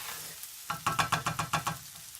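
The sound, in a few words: fried rice and bacon sizzling while stirred in pan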